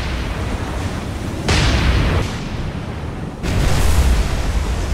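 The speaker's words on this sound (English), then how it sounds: "We have an explosion on the Furutaka here." Naval battle explosions aboard the heavy cruiser Furutaka in the War on the Sea game, during Operation Watchtower: a steady roar of broadband rumble with two loud bursts rising out of it, the second one longer and heavier.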